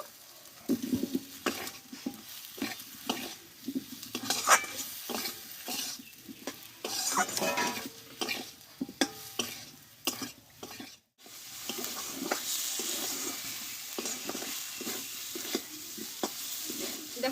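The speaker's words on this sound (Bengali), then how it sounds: "এবার মশলার সঙ্গে আমি কষে রাখা আলুগুলোকে আমি একটু একসঙ্গে কষে নিব" Potatoes stir-fried with spices in a pan for an aloo cauliflower dish, with a constant sizzle under repeated close scrapes and clinks of a spoon against the metal, briefly pausing before the frying resumes louder.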